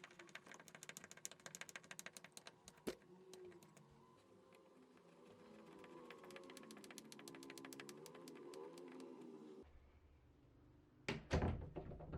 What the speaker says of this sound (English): Now the door latches easily by lightly closing the door.